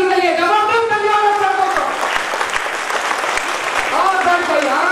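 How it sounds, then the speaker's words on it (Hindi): Loud audience applause at a health seminar greets a speaker, dense and steady throughout, with a voice talking over the clapping at the start and end. "जबरदस्त तालियों के साथ स्वागत किया जाएगा।"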